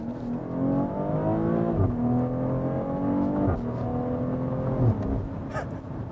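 A 2020 BMW X3 M40i accelerates hard, its engine note climbing steadily through the gears with brief dips at each automatic upshift, loud and continuous throughout.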